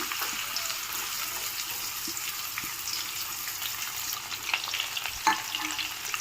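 Onions fry in oil with whole biryani spices for tomato rice, a steady close sizzle with stirring scrapes and a couple of louder clanks near the end, no talking.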